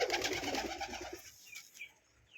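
A Tiger Gorra pigeon coos softly and close by, giving low, throaty rolling calls that fade into quiet, with a few faint higher chirps after.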